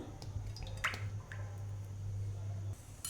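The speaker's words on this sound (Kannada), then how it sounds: "ಎಣ್ಣೆ ಹಾಕ್ಕೊಳ್ತೀನಿ ಈಗ" Cooking oil is poured into a pan before frying corn pakoda, giving a soft, quiet liquid trickle with faint drips and squishy sounds nearby.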